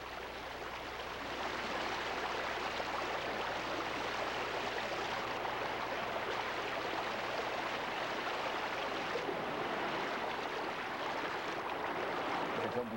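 Mountain stream in a summer valley in Seorak, a continuous, even rush of flowing water, moderately faint and steady for the whole stretch, with no voices.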